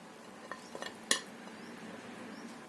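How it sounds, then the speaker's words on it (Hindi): Cooked black chana pulao is mixed in a pressure cooker: a few light scrapes and taps of a spoon against metal build to one sharp clink, all quiet and close, with no talking. "पुलाव को एक बार करेंगे हम मिक्स।"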